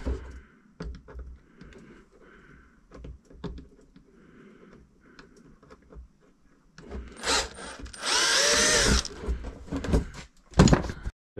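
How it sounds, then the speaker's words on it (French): A power drill bores holes in a Traxxas X-Maxx RC car body shell. Quiet taps and handling noises give way to a loud, whining two-second drill burst, followed by a few more short spurts up close. "Allez, je vais percer."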